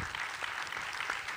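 An audience at a French panel discussion on local authorities and disinformation claps in a brief, dense burst of applause, moderately loud and steady throughout.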